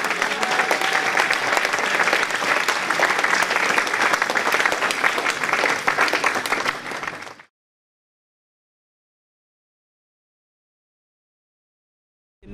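A church congregation at a worship service claps loudly and continuously for about seven seconds, a dense crowd of hands, then the sound cuts to silence.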